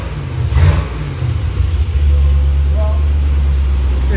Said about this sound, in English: the motor sounds good, it revs nice